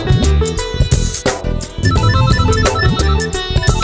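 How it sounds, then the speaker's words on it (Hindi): A mobile phone ringtone plays loudly and close, a bright repeating melodic tune with a steady beat that sounds continuously throughout with no talking over it. "किसका फोन बज गया?"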